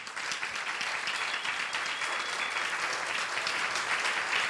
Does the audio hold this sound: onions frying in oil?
no